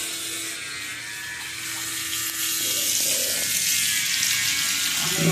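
A Glide Pro 3.0 wet and dry shaver runs close by with a steady electric buzz, then its tone shifts and grows slightly louder partway through, with no talking.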